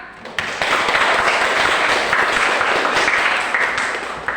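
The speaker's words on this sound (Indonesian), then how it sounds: "Beri aplaus anak-anak." Students in a school classroom give a round of applause, a loud, dense burst of many hands clapping that swells quickly, holds steady for a few seconds, then fades.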